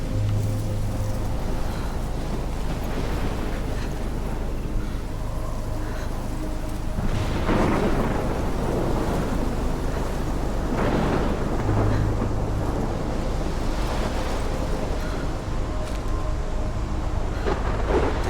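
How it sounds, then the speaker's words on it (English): Heavy thunderstorm in the Life is Strange video game, a steady roar of rain and wind with deep rolling thunder swelling loudly in the middle, no talking. "Middle of a storm, crazy storm."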